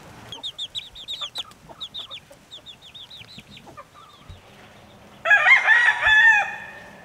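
Chickens clucking and calling in a backyard flock, a string of short bright calls early on, then a loud rooster crow bursts in near the end, close and clear with no talking.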